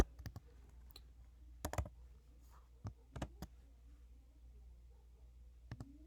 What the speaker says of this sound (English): I'm actually typing in like some of these settings